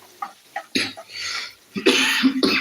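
A few soft throat sounds, then a harsh cough and two more hacking coughs close together, near and loud.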